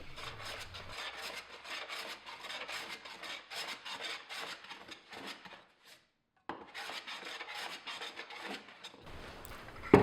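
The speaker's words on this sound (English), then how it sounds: "I accomplish the final flattening the old-fashioned way with a sharp hand plane and elbow grease." A sharp hand plane flattening a wooden bench seat blank: repeated rasping strokes of the blade shaving wood, steady and fairly close, with a short pause partway through before the strokes resume.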